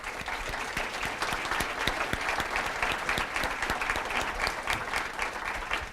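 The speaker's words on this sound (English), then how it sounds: "Round of applause before we give the results to all of our competitors" Sustained audience applause at a school competition evening, the Cardinal Challenge 2015, for the student competitors: dense, steady clapping from many hands that holds at an even, fairly loud level throughout, with no voices standing out.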